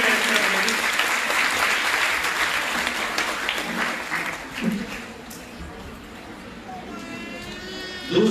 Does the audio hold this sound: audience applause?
yes